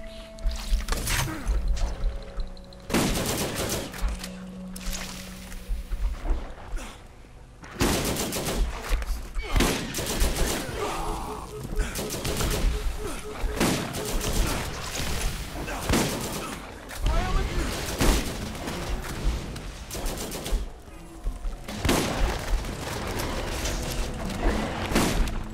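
Gunfire in Borderlands as the player shoots skags, sharp shots and bursts scattered through the stretch amid game noise, with people talking over it.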